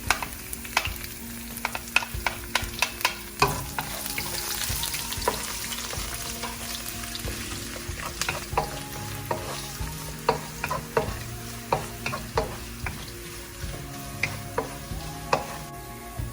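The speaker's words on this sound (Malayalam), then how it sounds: "ഇഞ്ചിയും വെളുത്തുള്ളിയും കരിവേപ്പിലയും ഇപ്പം ഇട്ട് കഴിഞ്ഞ് ഇപ്പം ഒരുമാതിരി ഒന്ന് വഴണ്ടു" Ginger, garlic and curry leaves sauté in a pan for Kerala-style mushroom thoran, giving a steady close sizzle broken by frequent sharp spatula clicks and scrapes, with no talking.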